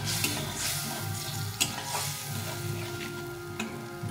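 Spice paste for a Bengali fish curry sizzling and frying steadily in a pan as it is stirred, with scraping and occasional clicks of the utensil against the pan, close and continuous without talk.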